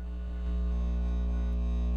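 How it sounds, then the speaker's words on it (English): A loud, steady electrical hum with a static edge drones without a break inside The Convenience Store night-shift horror game, close and constant with no speech. "That's a loud white noise,"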